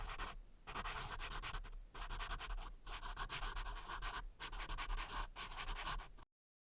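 Pen scratching on paper close up, steady strokes broken by brief pauses about once a second, with no talking.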